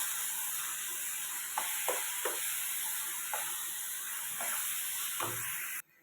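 Carrot halwa with dry fruits and cardamom is stirred in a pan with a steady soft sizzle and hiss, while a spoon scrapes several times in separate strokes, close and clear, before the sound cuts off abruptly.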